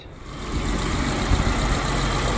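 A BMW E30 engine idles steadily up close, running smoothly after idle problems from a vacuum leak were addressed, a low rumbling drone with a slight rhythmic knock and vibration, no voices present.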